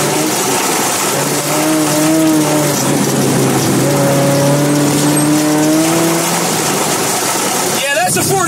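A 1987 Toyota MR2 rallycross car makes a run, its engine straining loudly with rising and falling revs over a constant roar of tires and gravel, close and unbroken, before it cuts off near the end.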